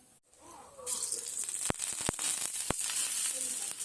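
A steady hiss of thalipeeth flatbread sizzling on a hot griddle, with a few sharp clicks and taps cutting through the crackle.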